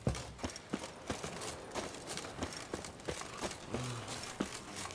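Horse hooves clip-clop in The Witcher 3, a steady walking rhythm of sharp, fairly quiet hoofbeats with faint background sound.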